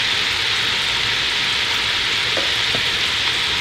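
Corn tipped into a pan of hot cream and butter sizzles and fries steadily, a loud continuous hiss with a couple of faint stirring clicks and no talking.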